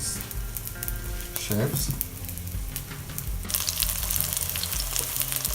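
Homemade chicken sausage rolls fry in a pan with a steady, close sizzle, joined by a few brief utensil clinks and stirring sounds.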